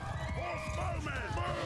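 Cavalry horses in a Mount & Blade II: Bannerlord battle neigh and whinny repeatedly over a rumble of hoofbeats and battle noise, with a voice talking over them.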